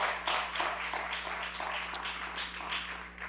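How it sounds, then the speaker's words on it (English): Audience applause at a city budget presentation, a modest crowd clapping steadily with audible individual claps, fairly close and holding at a constant level over a low background hum. "Let's give them a round of applause."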